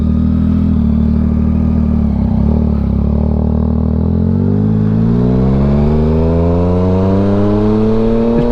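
A motorcycle engine with a fault runs on its own without throttle input, a loud, close, steady drone that slowly rises in pitch toward the end.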